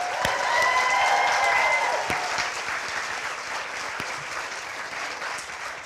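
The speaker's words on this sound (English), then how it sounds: "Can we give a big round of applause?" Audience applause at an opera house before a cartoonist's talk, a full, loud burst of clapping from a crowd that stays dense throughout and eases slightly toward the end, with a few sharper claps.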